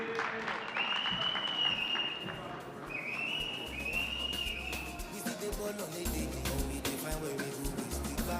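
An audience at a Commonwealth Youth Council award presentation clapping, a sustained, fairly soft patter of many hands, with a voice speaking over it near the start and middle.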